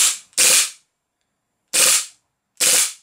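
A hi-capa gas blowback airsoft pistol running low on gas fires three loud, sharp cracks, one early and two close together near the end, each with a short mechanical snap and silence between.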